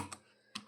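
Two quiet computer keyboard key presses while working in Tally Prime accounting software, each a brief soft click, close and isolated against faint background hiss.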